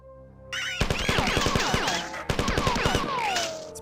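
Rapid bursts of gunfire from the first-person shooter game Marathon, loud and close, firing in quick strings with pauses, over warbling electronic sweeps and game noise.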